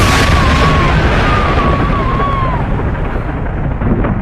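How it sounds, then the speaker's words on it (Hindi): A loud, rumbling roar of thunder that fills the whole stretch and slowly eases off, with a thin tone drifting faintly above it. "उसी पल बाहर तेज बिजली कड़की"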